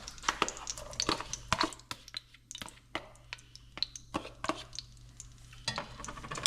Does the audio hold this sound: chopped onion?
yes